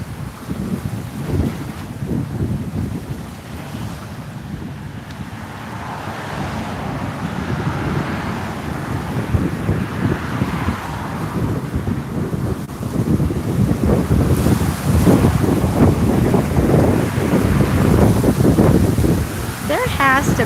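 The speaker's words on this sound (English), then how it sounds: "Now, I'm experiencing a good bit of wind here and traffic noise." Heavy wind buffets a Google Pixel 8 Pro phone microphone on a walk along the beach at Singer Island, a constant roaring rumble with surf and distant traffic mixed in, and a voice speaking intermittently beneath it.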